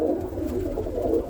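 Roller pigeons coo in a steady, low rolling murmur, several birds overlapping close by with no pauses across the short stretch.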